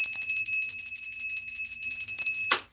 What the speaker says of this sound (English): The bell is back, baby.